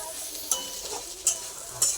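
Greens sizzling and frying in a pan as turmeric is added, with a soft continuous hiss and three sharp scrapes of stirring spaced about half a second apart.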